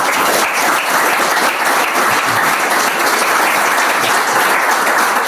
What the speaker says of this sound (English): Let the record show spontaneous applause for